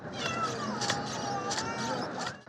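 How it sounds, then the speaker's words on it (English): A Lego Boost robotic toy cat gives synthetic cat-like meows with sliding pitch, broken by short hissy bursts, in a continuous close sequence lasting a couple of seconds. "Lego's Boost, a robotics program that lets you interact with a hissing and purring cat, is expected to be a hit."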